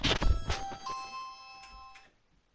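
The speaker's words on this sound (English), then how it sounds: "That is the doorbell." A home doorbell chimes with bright ringing tones that fade out over about two seconds, heard indoors at moderate volume.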